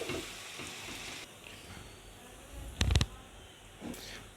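Chopped onions with ginger-garlic paste fry in a pan for a mutton paya curry, giving a soft, steady sizzle. A few louder clattering bursts from stirring break in briefly.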